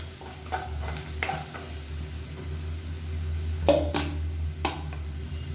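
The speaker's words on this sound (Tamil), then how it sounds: "நல்லா வதக்கி விட்டுட்டு மீடியமான ஃப்ளேம்லேயே வதக்கி விட்டுக்கோங்க" A paneer masala base sautéed on a medium flame, a low steady sizzle with repeated spoon scrapes and a few sharp clinks against the pan, close by with no voices.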